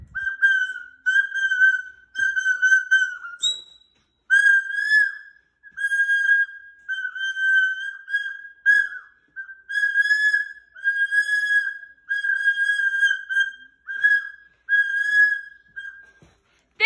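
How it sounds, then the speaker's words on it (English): A child blows a shrill whistle repeatedly in short, sharp toots, close and loud, with brief gaps between bursts. "I'm going to whistle this blue whistle"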